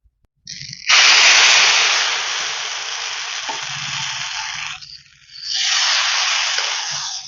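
Rice batter for chitoi pitha poured onto a hot oiled tawa bursts into a loud, close sizzle that eases off, dips briefly, then swells again.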